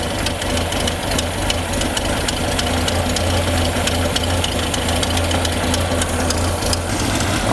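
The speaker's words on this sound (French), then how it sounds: "on entend que le ralenti est un peu plus haut quand même" The engine of a Peugeot 205 CTI runs at a raised idle, a steady, loud, even mechanical drone with a low hum and slight knocking texture, continuous throughout with no talking.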